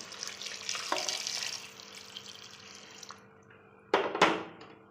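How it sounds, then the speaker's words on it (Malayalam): Boiling water pours and splashes into a pot of Kerala-style roasted-coconut chicken curry with liquid gurgling and sizzling, then a louder burst of pouring near the end. "ഇതിനകത്തേക്ക് നമുക്ക് ഇത് ചിലപ്പം തിളച്ച വെള്ളം ഒഴിക്കാം"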